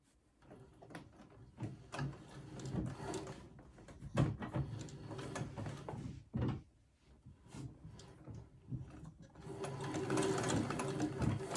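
An old treadle sewing machine runs in uneven bursts, its rhythmic mechanical clatter rising and pausing with the pedaling, close and fairly quiet, with a few clunks of handling between runs.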